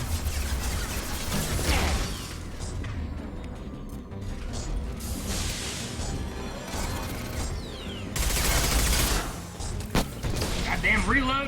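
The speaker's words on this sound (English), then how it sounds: "I can grab this grenade launcher" Grenade launcher fire and mechanical weapon clatter in the video game Mass Effect 2, dense combat effects with repeated bursts and reload clicks, loud and busy, with a voice talking over parts of it.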